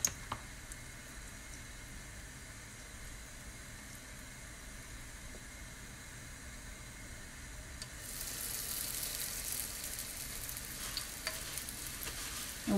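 Sfenj dough frying in hot oil, a faint steady hiss that grows into a brighter, fuller sizzle partway through, with no voices.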